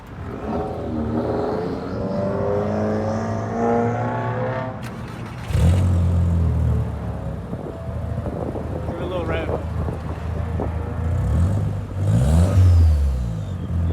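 A VW MK4 1.8T turbo engine with a custom cat-back exhaust revs up loudly several times, deep rising roars heard close with wind noise, while people talk over and between the revs.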